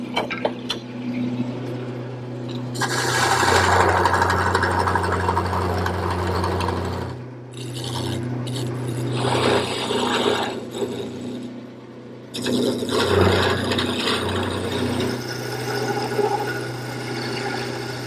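Wood spinning on a lathe is cut with a larger gouge while shaping a straight section between beads for a quilt rack, producing a loud, continuous scraping whir under a steady motor hum, with brief pauses in the cutting.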